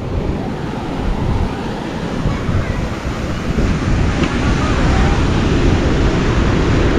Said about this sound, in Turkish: Dalganın bitimiyle beraber devam